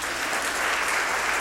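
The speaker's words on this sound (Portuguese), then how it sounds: "vamos aplaudir Jesus" A church congregation applauds during a worship service, a dense, continuous roar of many hands clapping together.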